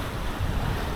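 Ocean waves rush around a sailboat sailing solo across the Atlantic at up to 10 knots, a loud, continuous roar of water and wind with no voices.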